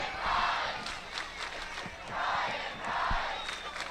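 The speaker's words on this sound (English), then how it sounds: "The student section here cheering their praise for Brian Rice" A student section roars and cheers at a high school football game between Father Ryan and Ravenwood, a broad crowd noise swelling in waves with shouts, fairly distant.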